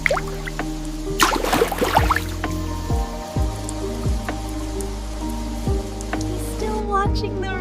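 Rain falls steadily in the countryside, with a constant wash of drops and occasional close drips, accompanied by soft sustained tones.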